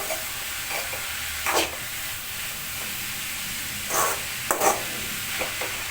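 A bottle gourd adai mixture is stirred and fried in a pan, giving a steady low sizzle broken by several short scraping stirs.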